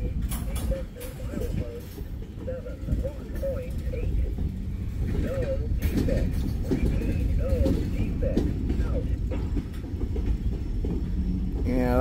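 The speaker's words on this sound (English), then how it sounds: "yeah, that's the other train" A Wheeling & Lake Erie freight train rolls along the track, a continuous rumble with rhythmic clanking and squealing wheels close by, while people talk over it.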